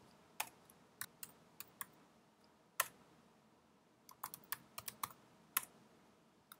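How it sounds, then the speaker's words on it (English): Names typed on a computer keyboard come through as sparse, crisp key clicks in short bursts separated by pauses, quiet and close against a faint background hiss. "type four names here just for this demonstration"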